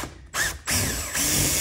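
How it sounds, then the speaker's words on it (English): A power drill bores a hole through a plastic luggage wheel in two bursts, a short whine and then a longer close grinding run, loud and with no talk. "we're just gonna just drill our way"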